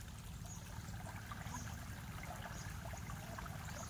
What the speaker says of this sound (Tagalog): napakalas ng tubig.